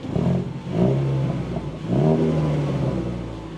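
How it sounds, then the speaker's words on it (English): A Ford EcoBoost car engine revs twice with the exhaust opened up, a loud, rough note, each rev rising then falling away. "I can't help myself, I gotta open up the exhaust."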